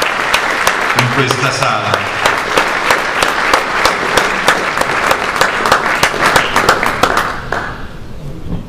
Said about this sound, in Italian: Io davvero vorrei un altro applauso a lui